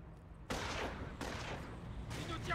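Gunfire from the Company of Heroes strategy game in a night battle, several bursts of shots starting abruptly and rolling on in loud waves, with no one talking over them.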